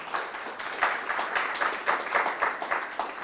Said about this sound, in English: Let's clap for Jack again, because that was really great.